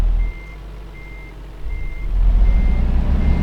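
Reversing beeper on a truck in Euro Truck Simulator 2, four evenly spaced steady electronic beeps over a low engine rumble that grows louder toward the end.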